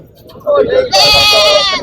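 At a livestock market, Barbari goat kids bleat loudly and close by, a wavering nasal cry rising out of crowd murmur, with someone talking through it.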